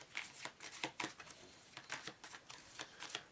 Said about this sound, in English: Shuffling these cards up here.